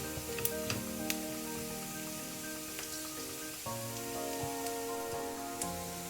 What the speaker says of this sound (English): the onions are frying really well